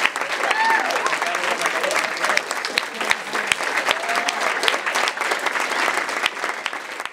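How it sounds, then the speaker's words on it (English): A school audience claps steadily and fairly close as an inner-city principal walks into the room, with scattered voices and whoops mixed into the sustained applause. "as soon as he walks in the room, your only responsibility is to clap"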